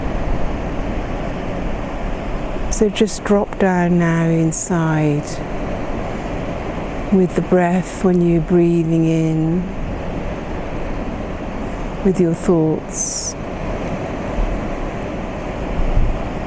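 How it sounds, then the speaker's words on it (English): A steady, rushing wash of sea waves on the shore runs continuously beneath a calm, slow voice talking. "We can hear the sea"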